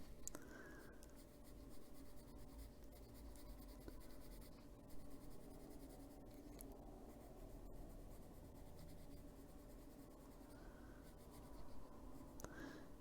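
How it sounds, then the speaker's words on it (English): A colored pencil rubs continuously across paper in close, soft scratchy strokes, steady and quiet for several seconds with brief pauses as the pencil is turned. "Gonna keep turning the pencil and get on that sharpest point there and put a little more pressure to get it darker."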